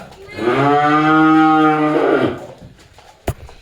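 A large pregnant Friesian cow gives one long, loud, close moo lasting about two seconds, followed by quiet and a brief knock.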